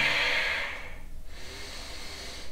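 A long, forceful breath streams out close to the mic during a power yoga downward dog hold, loud at first and fading, followed by a quieter, softer breath.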